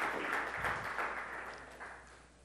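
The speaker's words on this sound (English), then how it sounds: "Please give him a round of applause" A conference audience applauds a speaker introduced for a talk on hacking medical devices. The clapping is a dense, steady wash that slowly thins out over a couple of seconds, with no voices.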